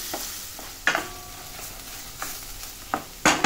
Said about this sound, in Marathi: जास्त फ्राय नाही करायचं आपल्याला, थोडंसं हे करून घ्यायचं